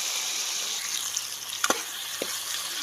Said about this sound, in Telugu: ఇవన్నీ బాగా ఫ్రై చేసుకున్నాం.